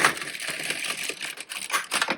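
An LK150 knitting machine carriage slides across the needle bed to knit a row, giving a dense run of close, clattering, rasping clicks for about two seconds.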